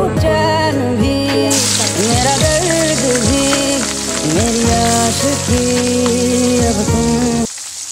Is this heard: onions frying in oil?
yes